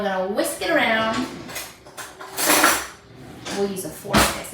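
A fork whisks dried whole egg powder with water in a bowl, making light clinking and scraping against the dish in short bursts while a person talks over it.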